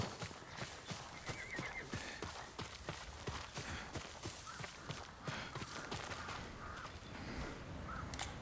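A horse in the video game Ghost of Tsushima moves with a faint, steady run of hoof clip-clops, and a soft whinny sounds partway through, all at low volume.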